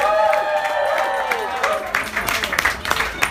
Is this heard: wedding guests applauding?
yes